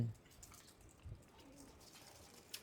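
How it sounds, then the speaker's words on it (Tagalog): Faint, soft cooing of pigeons kept in a loft by a breeder of racing flyers, with a few low coos and light rustles against a quiet background. "Andyan lahat yung mga kalapate natin."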